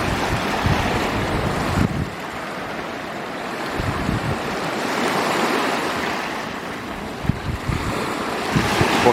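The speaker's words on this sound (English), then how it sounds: "waves coming in and depositing little stones and then washing them away in that rock." Sea waves wash in over small stones at a west-facing port on Ireland's east coast, giving a continuous rushing surge with gusty wind buffeting the microphone.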